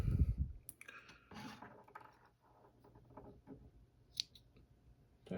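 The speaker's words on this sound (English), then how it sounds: "take our scissors" Scissors snip tying material while a treble hook is dressed with bucktail, a few quiet close-up blade clicks and snips with faint handling sounds in between, no voices.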